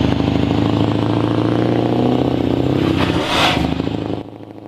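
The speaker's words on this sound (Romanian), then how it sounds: "sunetul de V8" A Scania V8 truck engine runs loud and steady with a deep, throbbing rumble, swelling briefly near the end before cutting off abruptly.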